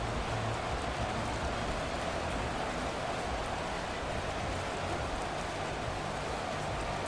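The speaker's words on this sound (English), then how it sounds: "The rain set to continue as we are underway in the second half." Steady rain hisses evenly across a stadium during a Madden 24 NFL game between the Chicago Bears and Detroit Lions, a dense, constant wash of falling water with no voices over it.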